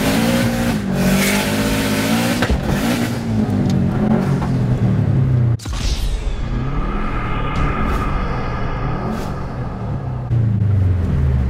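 A damaged Subaru car engine revs hard while in gear but the car is not moving, a loud, continuous strained roar that rises and falls, with one brief cutout midway.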